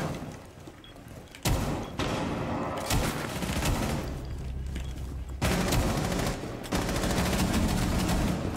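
Rapid bursts of G36 assault rifle fire in the video game Rainbow Six Siege, loud and close, coming in several sustained volleys with short gaps between them.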